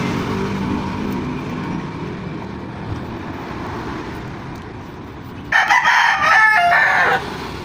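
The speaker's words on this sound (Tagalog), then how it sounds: "Panay tutulaok yung aking alagang manok." A rooster crows loudly near the end, one drawn-out call over a steady background rumble of machinery in a truck rubber bushing fabrication workshop.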